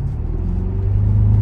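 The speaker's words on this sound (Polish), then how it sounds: "Kurde, turbiny dmuchają." An Audi RS V8 biturbo estate's engine rumbles from inside the car with its turbos spooling, a loud, steady low drone that builds slightly over a brief moment, with no speech.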